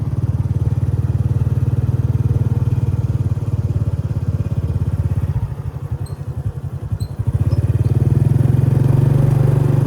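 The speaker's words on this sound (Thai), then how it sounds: "เดี๋ยวเราสิลองขี่รถไปเบิ่งทางนั้น" A motorcycle being ridden, its engine droning steadily and loudly up close, dipping briefly in pitch and level midway before picking back up.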